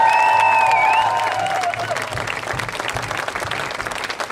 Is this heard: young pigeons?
no